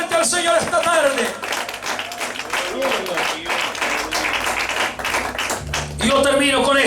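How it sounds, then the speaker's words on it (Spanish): A church congregation claps loudly for the Lord during an afternoon service. Sharp hand claps run through the whole stretch while voices sing and talk over them. "Dale un aplauso fuerte al Señor esta tarde."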